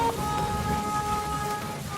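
Heavy rain pours steadily in a village, a dense continuous hiss with no breaks, moderately loud and even throughout, with no voices over it.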